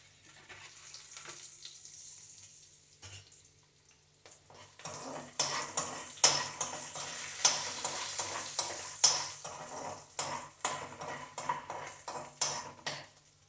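Peanuts, urad dal and green chillies with a little turmeric fry in a pan for bottle gourd peel chutney. Quiet at first, then a steady close sizzle builds, broken by repeated sharp scrapes and clinks of a spoon stirring against the pan.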